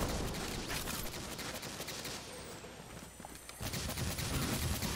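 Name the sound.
gunfire in the video game Destiny 2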